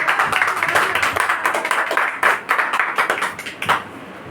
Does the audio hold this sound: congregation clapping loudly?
yes